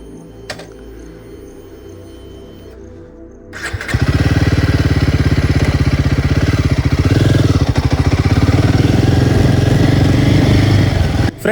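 A Royal Enfield Himalayan 450 motorcycle fires up after a few quiet seconds, then idles and revs with a loud, steady, close-up throb that fills the rest of the clip, with no talk.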